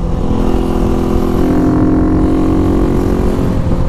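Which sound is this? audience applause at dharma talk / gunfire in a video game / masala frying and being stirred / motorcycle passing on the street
motorcycle passing on the street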